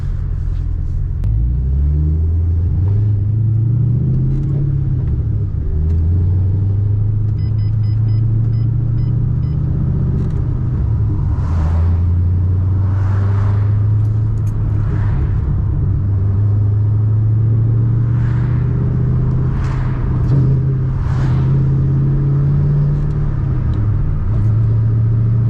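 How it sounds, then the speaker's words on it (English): A Ford Mustang on a test drive, heard from inside as a steady engine rumble with the note rising and falling through gear changes and throttle, plus road noise, without talking. "Take her for a little test drive, see if she's making power."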